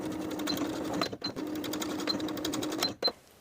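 A sewing machine stitches the side edges of a denim coin pocket for jeans, a fast, steady mechanical chatter close by, with brief pauses and a stop near the end.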